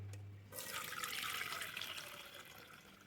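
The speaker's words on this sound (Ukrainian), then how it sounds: "Бульйон готовий, тепер буду його проціджувати." Red fish broth is strained, pouring and splashing steadily after a brief quiet start, a continuous rushing wash of liquid close by.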